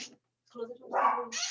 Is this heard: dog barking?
yes